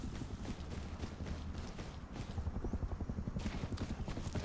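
Helicopter in the Rust video game, a steady rhythmic rotor thumping under wind-like noise that grows stronger and more pulsing partway through, with no talking.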